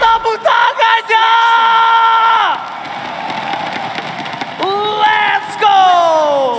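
An arena crowd at a Mobile Legends esports playoff match between RRQ and EVOS Legends yells and cheers, with loud tonal shouts and whoops rising in waves over a steady roar.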